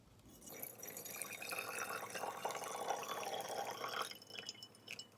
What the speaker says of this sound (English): Then go ahead and start pouring this murky mess into the bottle.